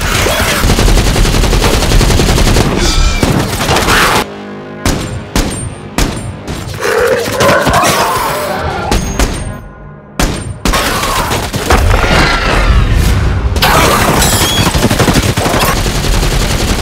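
Gunfire and explosions in the 2025 action film The Gorge: loud machine-gun bursts and booming blasts, broken by short silent gaps, with no talking.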